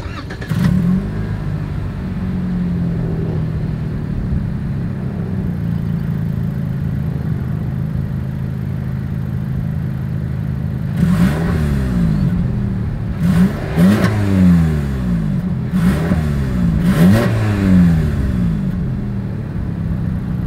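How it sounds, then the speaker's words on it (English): A 2021 Lexus ES 250 engine idles with a low rumble, then revs hard several times, each blip rising and falling in pitch, loud and close through the exhaust. "As always, here is that exhaust clip."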